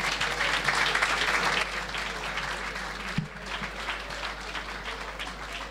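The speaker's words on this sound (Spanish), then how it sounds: "Los aplausos." Applause fills a faculty of engineering's 60th anniversary ceremony at a university in Argentina, a dense steady clapping from the hall that eases slightly after the first couple of seconds and carries on without talk.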